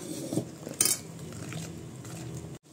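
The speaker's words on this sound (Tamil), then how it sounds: "கோதுமை மாவு கொஞ்சம் கொஞ்சமாக போட்டு நல்லா மிக்ஸ் பண்ணணும்" Wheat flour and cornflour being mixed into an eggless coffee biscuit dough in a bowl, with close metal spoon scrapes and one bright clink against the dish before a sudden stop.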